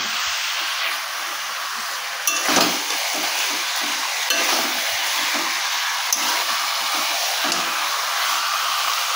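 Potatoes fry in a pan in a village-style kitchen with a continuous bright sizzle. Several distinct scraping stirs of the pan come at intervals on top, close and fairly loud, with no talking.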